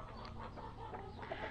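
Young free-range hens cluck steadily on a farm, scratching at rain-dampened earth. The low, overlapping calls come from close by and continue without pause, with no one talking.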